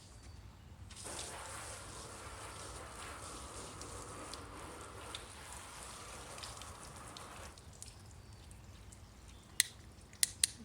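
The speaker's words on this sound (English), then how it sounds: "let's go ahead and hit this with water and see what our LSP water activity looks like" A sprayer hisses water onto a car panel in a steady, close wash of spray lasting several seconds, then cuts off, leaving faint drips and a few sharp clicks.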